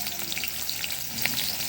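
Potatoes frying in a little oil for a homemade iftar dish: a close, continuous crackling sizzle with scattered pops and faint stirring, no voices.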